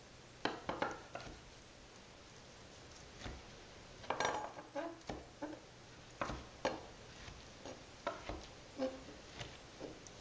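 A knife rough-cuts pieces of cooked chicken for chili on a board, giving a series of soft, irregular chops and taps, close and quiet, with no voices over them.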